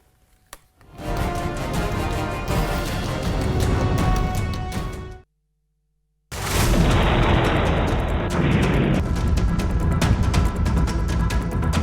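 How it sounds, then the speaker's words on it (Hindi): Heavy, sustained rumbling blasts from bombardment in the Russia-Ukraine war roll on for several seconds, break off into a brief silence, then return just as loud and dense, close by. "सबसे बड़ा धमाका।"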